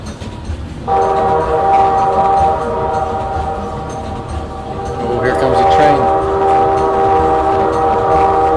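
A loud, steady horn-like tone starts about a second in and holds with shifting pitch over rumbling engine noise as an amusement ride train departs, with voices murmuring faintly underneath.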